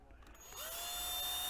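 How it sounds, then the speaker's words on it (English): A Ryobi drill drives screws into a wooden RC car kit at the rear control arm. After a faint start, a short motor whine spins up and holds steady. "we're using the Ryobi drill. Get these screws in here."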